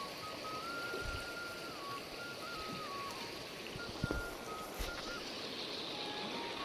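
A hill-country river flows in a steady, broadband rush while someone wades across. The water noise is moderately quiet and continuous, broken by a few brief splashes and a faint thin tone above it.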